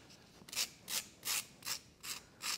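A foam sculpture being roughed down with a carving tool, six regular rasping strokes in quick succession, close and fairly loud with short gaps between them.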